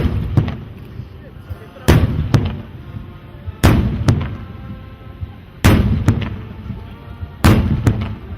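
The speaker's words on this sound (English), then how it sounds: "After exiting the aircraft, the Nigerian national anthem was played during the military's 21-gun salute." A military 21-gun salute is fired during the Nigerian national anthem at an arrival ceremony, with loud, sharp booms spaced about two seconds apart over a steady background rumble.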